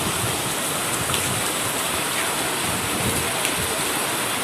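Heavy rain pours over a farm field during the moong bean harvest: a dense, steady, loud hiss without pauses or voices.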